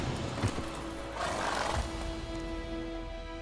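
Roach the horse in The Witcher 3 video game gives a neigh over a steady ambient bed with faint music, the whinny rising in the middle and fading under a lingering tone.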